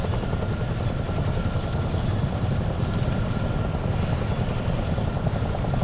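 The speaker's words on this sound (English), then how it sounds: "I'm in the Chinook." A Chinook helicopter in a flight simulator video game gives a loud, continuous rotor and engine drone that holds steady and close throughout, with no talking.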